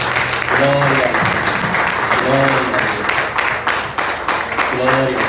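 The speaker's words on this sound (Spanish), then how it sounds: "¿Por qué no le das ese aplauso más fuerte?" A church congregation at a Sunday service applauds with sustained clapping, while voices sing or call out in short repeated phrases over the steady clatter.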